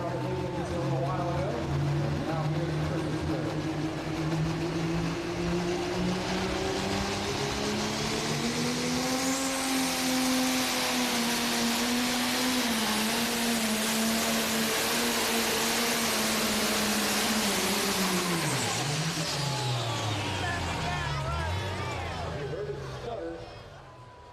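Competition pulling tractor engine roaring at full load during a tractor pull in Chapel Hill, Tennessee, loud and continuous for about twenty seconds, pitch rising then sagging and dropping as the RPMs fall off near the end.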